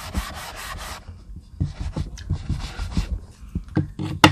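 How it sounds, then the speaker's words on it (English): Leftover ink colouring rubbed off a stamped paper card, close dry rubbing strokes in short repeated bursts, brisk at first and then more scattered, with no talk. "we're going to just kind of rub the rest of this coloring out of here"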